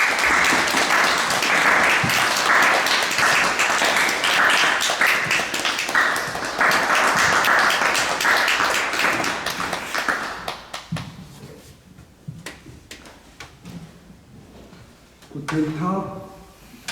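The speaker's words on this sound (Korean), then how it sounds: "목사님 나오실 때 큰 박수로 환영해 주시기 바랍니다" A church congregation in Vienna gives loud, dense applause to welcome a pastor at a Sunday service. The clapping is sustained for about ten seconds, then thins into scattered claps and fades as a voice begins speaking.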